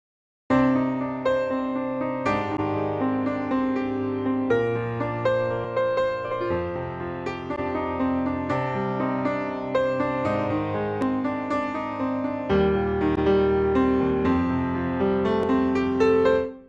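Sampled piano chords and melody played continuously through an analog saturation circuit, warm and slightly thickened, shifting in tone partway through as saturation switches in and out, steady and close with no voices.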